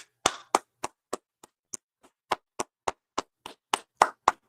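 Clapping at an ISUPK Wednesday night law class in Kansas City, with about sixteen sharp, separate claps in a steady, unison-like rhythm, briefly pausing midway, and no talk over them.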